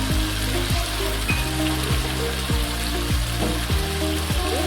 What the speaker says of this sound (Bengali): এরপর সব কিছুকে ভালোভাবে মশলার সাহায্যে মিশিয়ে নেব।